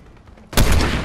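Gunfire in the Fortnite video game: a quiet stretch gives way to a sudden loud burst of rapid shots that keeps going, dense and close, with no talk.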